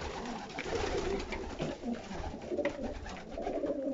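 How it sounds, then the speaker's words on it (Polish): Young pigeons coo continuously and nearby, several soft overlapping calls blending into a steady murmur. "Tak się zalatuje gołębie."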